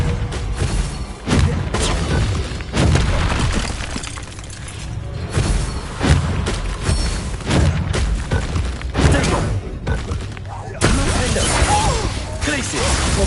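Confringo and Bombarda spell blasts in Hogwarts Legacy, dense booming explosions and crashing impacts back to back in a loud, busy battle, layered over game sound.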